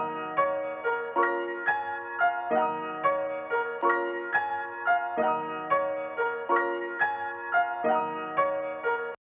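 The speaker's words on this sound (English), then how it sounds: "we started this beat off with this piano sample" A looping piano sample from Splice repeats a short chordal phrase in an even, steady rhythm, clean and moderately quiet with no voices, cutting off abruptly at the end.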